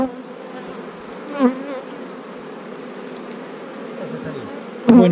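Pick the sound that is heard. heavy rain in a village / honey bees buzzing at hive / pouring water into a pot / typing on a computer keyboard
honey bees buzzing at hive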